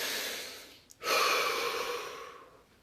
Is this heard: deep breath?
yes